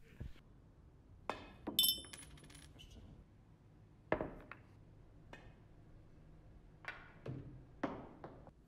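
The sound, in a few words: coin dropped into empty glass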